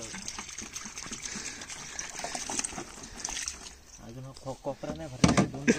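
Water is poured into a homemade tank for lotus plants, a splashing gush and trickle that swells toward the end while people talk nearby.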